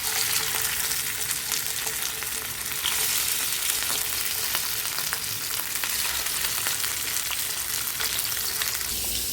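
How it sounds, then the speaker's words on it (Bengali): Pieces of rohu fish fry in hot oil in a wide pan, giving off a loud, continuous sizzle with crackling pops that holds steady throughout, with no talking. "তেলটা আমার গরম হয়ে গেছে, এবার আমি এর মধ্যে একে একে মাছগুলোকে দিয়ে দেবো।"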